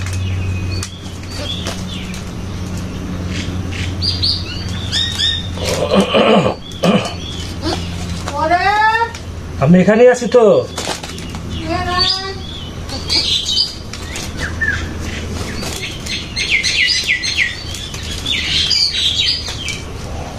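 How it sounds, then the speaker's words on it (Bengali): A young pigeon chick that cannot yet fly flaps its wings in short bursts close by, mixed with chirps and calls. A person speaks briefly, and there are coughs and throat-clearing sounds. "কবুতরটা বাচ্চা এটা উঠতে পারে নাই"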